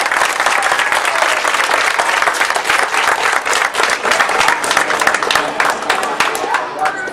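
Sustained, dense applause from a gathered crowd honoring colleagues who are retiring, loud and steady for about seven seconds with only a slight easing near the end.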